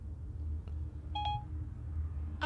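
Short electronic beeps from a timer being set for 10 minutes chirp once or twice at moderate distance over a quiet, low background hum, with no talking.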